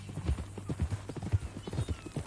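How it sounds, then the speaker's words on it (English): Horse hooves clip-clopping at a steady walking pace in the Red Dead Redemption 2 video game, with a continuous low hum running underneath the close, rhythmic hoofbeats. "That a new horse?"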